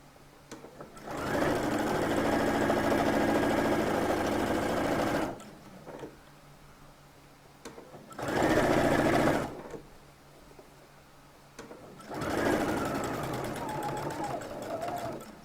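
A sewing machine stitches along a shirt collar line in three separate runs, a long steady burst, a short one, then another, each a close, even whir with pauses between.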